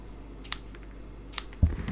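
Scissors make two crisp, quiet snips a little under a second apart while trimming paper at angles for handmade cards, followed by a soft bump.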